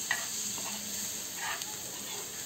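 Onion and tomato sautéing in a pan for a sandage bhaji, a steady hissing sizzle with a couple of soft stirring scrapes, close and even throughout, no talking.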